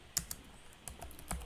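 A handful of separate computer keyboard keystrokes land as sharp, close clicks with gaps between them while code is typed, faint against a quiet room.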